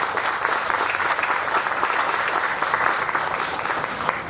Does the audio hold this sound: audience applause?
yes